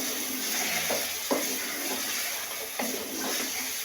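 Chicken pieces sizzle and fry in ghee with masala, a steady close hiss broken by a few soft clatters and stirring knocks.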